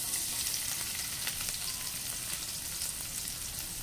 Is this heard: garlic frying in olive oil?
yes